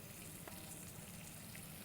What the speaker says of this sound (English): let it sizzle in a little bit.